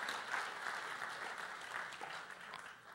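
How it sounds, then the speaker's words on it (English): Faint, steady applause from the audience at a melanoma foundation golf outing keynote speech, a soft, continuous patter of clapping heard from a distance with no talk over it. "that deserves a round of applause as well"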